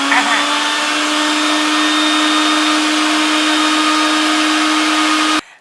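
A household mixer grinder runs with a loud, steady motor whine and hum, close by, then cuts off abruptly near the end.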